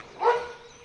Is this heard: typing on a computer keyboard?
no